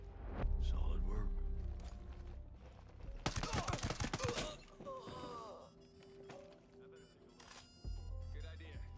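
Gunfire in the Ghost Recon Breakpoint video game, with a dense burst of rapid shots in the middle and scattered single reports around it, mixed with game sounds and radio-style voices talking.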